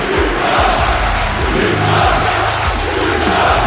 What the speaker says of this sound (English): Yeah, this crowd ain't happy to see Sick Nick whatsoever